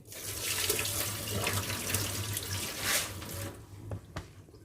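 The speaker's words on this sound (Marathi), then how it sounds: "तर आता ह्याचं वरचं पाणी काढून टाकते" Soaking water drained off rice pours steadily for several seconds, then tapers off into a few scattered drips and splashes, close by with no talking.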